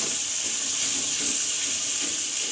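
Onion paste sizzling and frying in a pan while being stirred, giving a steady, close hiss with faint scraping, no talking.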